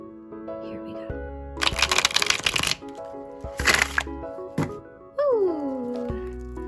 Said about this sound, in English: treat myself to the sweet, sweet pleasure of the very first shuffle